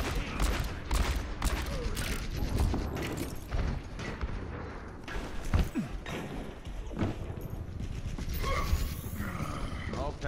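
McCree's Fan the Hammer in Overwatch: rapid revolver shots crack in quick bursts amid a busy, roaring game mix, with a voice speaking intermittently over the fire.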